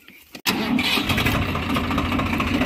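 A Swaraj 855 tractor engine fitted with a plough cranks and catches at once, settling into a loud, steady diesel running sound close by with no talk.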